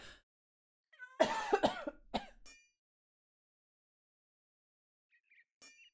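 A burst of several harsh coughs and throat clearing up close, followed by silence and a faint short sound near the end.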